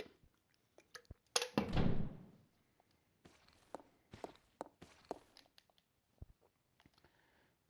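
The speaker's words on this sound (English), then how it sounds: "That zombie footstep still creeps me out." Zombie footsteps in Resident Evil 0: a heavy dragging thud and scrape, then a run of sharp, irregular steps and knocks spaced through the quiet, some close and some softer, with no talking.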